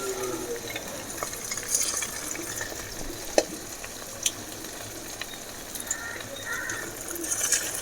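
Chilli chicken frying in oil, hotel style, with a continuous moderate sizzle and bubbling, broken by a few sharp ticks and pops.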